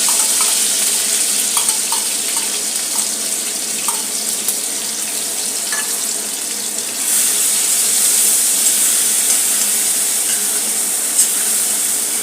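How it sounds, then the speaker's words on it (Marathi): Onion-tomato paste sizzles steadily in hot oil in a home kitchen for anda kadhi, a continuous hissing fry with occasional light clinks of a utensil stirring. "यामध्ये कांदा टोमॅटोचं वाटण घालून घेऊया."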